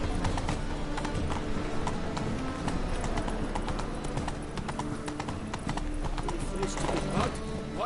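Horse hooves galloping in the video game Witcher 3: a steady, fast clip-clop rhythm running throughout, with a voice talking over it.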